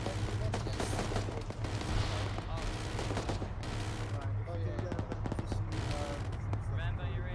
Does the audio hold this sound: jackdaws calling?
no